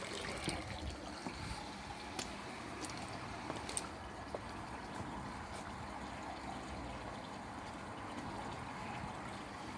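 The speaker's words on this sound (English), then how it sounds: "It's trickling out of there." Water trickles steadily out of a homemade pond filter, a soft continuous splashing and dribbling with small drips popping through, close and fairly quiet.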